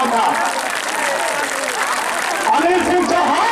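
Crowd applause welcoming party leader Anil Singh Chauhan at a Suheldev Bharatiya Samaj Party rally in Sukhpura, Ballia, steady and loud clapping with cheering voices and a speaker over it throughout.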